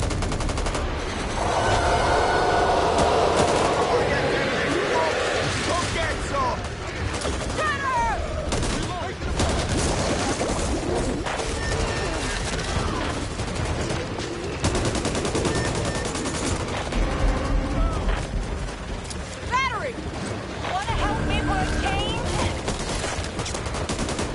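Bursts of gunfire in the co-op zombie shooter Back 4 Blood crack and rattle near and loud, interleaved with voices talking and other game effects between the volleys.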